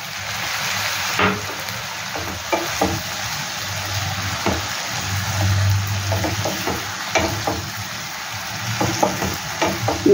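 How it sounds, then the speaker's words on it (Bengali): Mutton liver pieces hit hot oil in a pan while cooking chorchori, giving a steady close sizzle and fry with scraping stirs and clinks of the spoon throughout. "এবার এর মধ্যে মেটেগুলো দিয়ে দেবো।"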